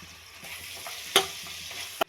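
Salted onions frying in oil with ginger garlic paste, stirred in a pan: a low steady sizzle punctuated by two sharp spoon clacks against the pan, close and quiet.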